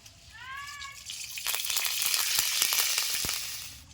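Mustard oil hitting a hot pan for tamarind pickle, a steady sizzle and spatter that builds loud and close after a brief mewing sound near the start.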